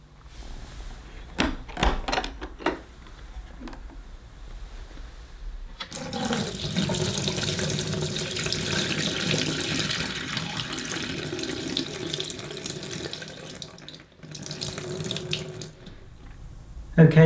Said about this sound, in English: But first of all, we'll have to get rid of this dirty water.